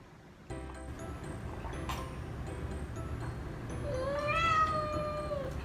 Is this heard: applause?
no